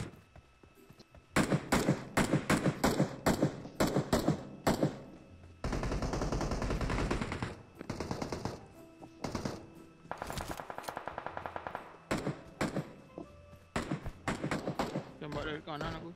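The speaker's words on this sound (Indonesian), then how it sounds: "Tembak dari kanan aku." Close, loud PUBG gunfire in rapid bursts and short volleys, broken by a sustained roar, with players talking between the shots.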